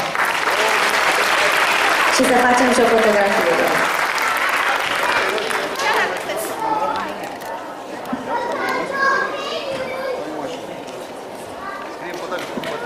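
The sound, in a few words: audience applause at a premiere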